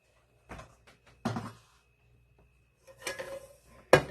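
Metal saucepan and strainer handled on a kitchen counter while straining pork rib juice: a few separate clanks and knocks with quiet gaps between them, the last one a sharp metallic clatter.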